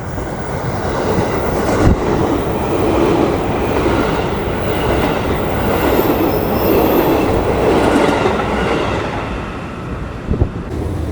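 Indonesian panoramic passenger coach with wide windows and a sunroof, running on rails in a continuous loud rumble with broadband rolling noise and faint wheel clatter.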